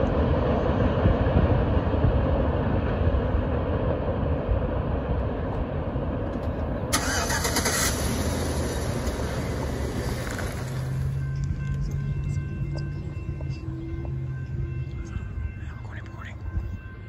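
A Norfolk Southern freight train at Macungie rumbles past loud and close with a dense clatter of wheels, then eases off as a bright squeal cuts in and faint tonal whines trail away.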